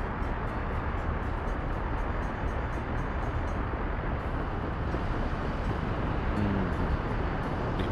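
Trains in the Soviet Republic management game Workers & Resources: a loud, continuous rolling rumble of rail traffic with steady, unbroken noise and no talk over it.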